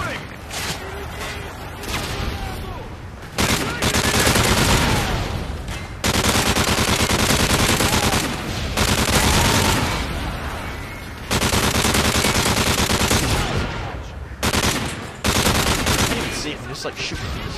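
Rapid automatic gunfire from the video game Call of Duty Modern Warfare 3 in Survival mode, loud bursts and sustained fusillades with booms, nearly continuous through the clip, under game voices and players talking.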